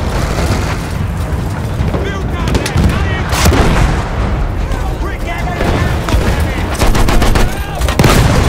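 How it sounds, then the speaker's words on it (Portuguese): Artillery in the World War I video game Battlefield 1 pounds across a muddy trench battlefield, heavy booms and rapid gunfire bursts in dense succession, loud and close, with shouted voices mixed in. "Artilharia!"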